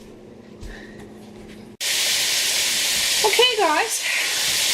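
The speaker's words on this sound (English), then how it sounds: "So let's get sizzling." Pork and chopped onion hit a hot pan with a sudden loud sizzle that keeps hissing steadily, with a brief voice before it and some scraping sounds.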